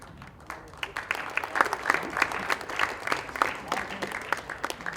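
An audience applauds at the 2017 ACA Championship India awards ceremony, steady dense clapping from a roomful of people, building slightly and sustained throughout.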